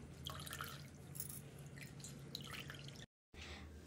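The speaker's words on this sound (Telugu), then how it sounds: "సో ఇలా వాటర్లో డిప్ చేసుకున్న తర్వాత" Microfibre cleaning mop dipped in water, with light dripping and wet splashes close by, then a brief silent gap before the trickling resumes.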